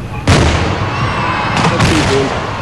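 A fireworks display set off by experts in an open area with spectators, loud booming bursts and crackling pops carrying on over a steady background din with crowd noise.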